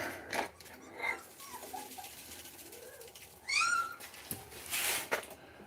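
Puppies playing together nearby, giving a few short, high-pitched yips and squeaky whines in scattered bursts, the loudest near the end, over a quiet indoor background.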